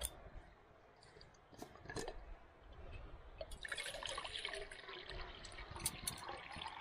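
Water poured from a container into a pot set on a lit camp stove at a wild campsite, a faint trickle and splash that grows fuller partway through, with light clinks of gear around it.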